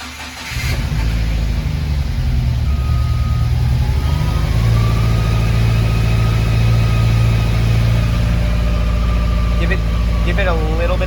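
A car engine with a misfire on cylinder 4 starts up and runs roughly at idle, a loud, uneven rumble close by with people talking over it.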